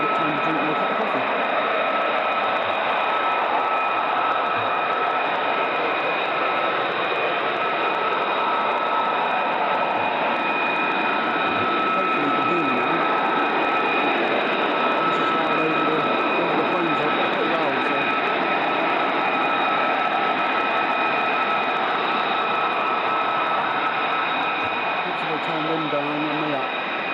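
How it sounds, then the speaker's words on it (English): Fighter jets, F-35s at RAF Lakenheath, descend to land, heard as a steady, continuous broadband roar holding at a constant level throughout, with faint radio-like chatter mixed in the background. "We've got F-35s coming down already."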